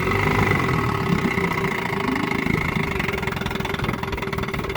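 A 1958 Johnson QD-19 10 HP outboard motor idles close by with a steady, even putter and hum, running a little rich, loud and continuous throughout.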